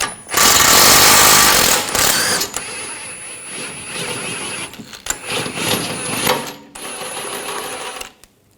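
Tools work loose a 21mm nut and bolt on the rear forward lower control arm of a 2011-2018 Volkswagen Jetta, a loud rattling burst first, then intermittent close clicks and metallic scraping.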